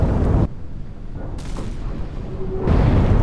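A huge blast as the magazine of a Slava-class cruiser detonates in a naval combat game, loud booming surges at the start and end framing a lower rumbling stretch between them.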